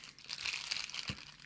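A small resealable plastic bag holding a telescope eyepiece is pulled open, a quiet, close burst of crinkling plastic ending in a short soft pop.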